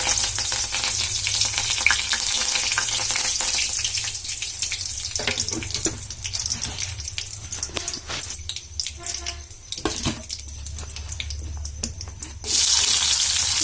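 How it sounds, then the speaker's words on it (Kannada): Curry leaves go into a hot oiled pan, setting off a steady, close sizzle and crackle that fizzes unevenly before flaring louder at the end. "ಕರಿಬೇವು ಹಾಕ್ತೇನ್ರಿ."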